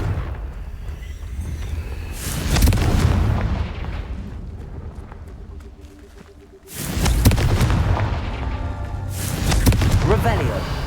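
Confringo fire spell blasts in Hogwarts Legacy, two loud booming explosions with rumbling tails, separated by a quieter stretch, with a voice casting spells in the mix.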